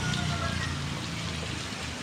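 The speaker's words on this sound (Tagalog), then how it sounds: "Tingnan mo, lakas pa ng ulan." Heavy rain pours down steadily and close by, a dense continuous wash of drops drumming on surfaces, with a low rumbling undertone throughout.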